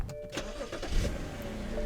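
A BMW 3-Series sedan engine cranks and catches, a brief low rumble at moderate distance that settles into a steady idle.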